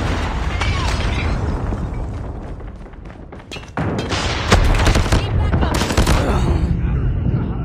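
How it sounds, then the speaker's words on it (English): Call of Duty Mobile battle audio with a predator missile strike and constant gunfire: dense rattling shots and bursts, a heavy explosive impact midway, and game voices calling out over the chaos. "Hostile predator missile inbound."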